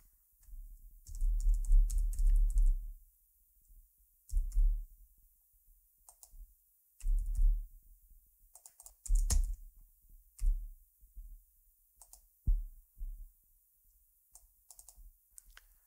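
Computer keyboard typed in uneven bursts while category and product entries go into a mapping table, close and fairly loud with short pauses between runs of key clicks and no voices.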